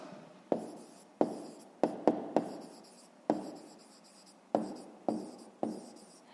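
A pen writes numbers on paper in a series of about ten short, sharp scratching strokes with brief pauses between them, close and quiet, with no talking.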